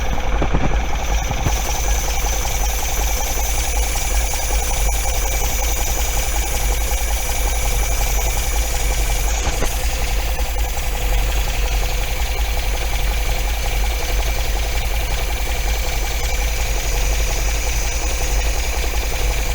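An MGB engine idles at about 800 RPM during a timing tune-up, holding a loud, steady hum with a constant low rumble throughout and no breaks.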